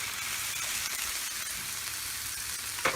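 Seasoned squash and onions sizzle in oil on a Blackstone griddle, a soft, even crackling hiss with a slightly louder scrape-like burst near the end.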